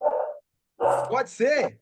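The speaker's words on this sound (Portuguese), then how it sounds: "que tem um cachorro latindo" A dog barks a few times in the background, picked up by an open microphone, mixed in with a person speaking briefly.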